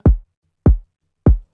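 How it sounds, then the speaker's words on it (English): A layered kick drum sample hits three times at an even pace, each a punchy, booming thump with a quick attack and short decay, loud and dry with silence between. "so the kick sounds like this"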